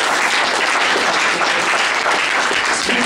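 An audience bursts into sustained, dense applause at a live show, a steady roar of many hands clapping throughout with no break.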